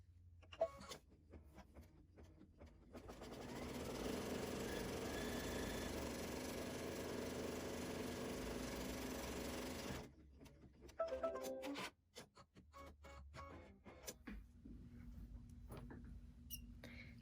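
An embroidery machine stitching down appliqué fabric, a steady mechanical whirring hum that runs unbroken for several seconds between quieter handling noises and rustles before and after.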